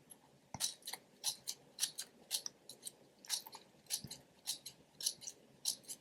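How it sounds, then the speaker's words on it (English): Sharp scissors snipping crepe paper to cut a small stamen for a cherry blossom craft: a quick run of crisp, close, quiet snips in a fairly even rhythm, heard alone. "Cut one more stamen here."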